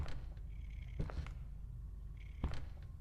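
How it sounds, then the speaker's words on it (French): A large cat purrs steadily and low in the horror video game Poppy Playtime Chapter 3, a continuous rumbling drone with two sharper knocks and faint high tones over it, no voices. "C'est quel animal qui ronronne?"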